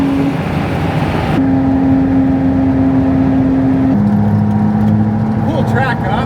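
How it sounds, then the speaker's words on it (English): McLaren Artura GT lapping a race track, its engine a steady in-car drone that holds one pitch, then steps up to a higher tone and later drops back, under an ongoing voice. "20 laps in this McLaren Artura GT."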